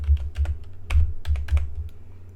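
Fingers type relative coordinates on a computer keyboard while working in Rhino 3D modeling software, a quick run of close, crisp key clicks and thuds at an uneven pace with no talking.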